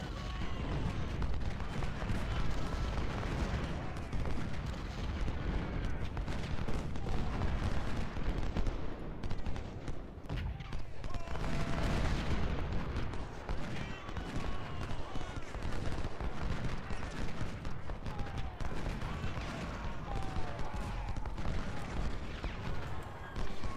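Civil War battle in a strategy game, with dense, continuous rumbling cannon and artillery fire layered with rolling musket volleys, a steady loud wash of booms throughout.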